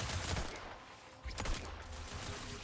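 Gunfire in The Outer Worlds 2 during a fight with sentinels, a few sharp, close bursts standing out over a busy game soundscape, with no talking.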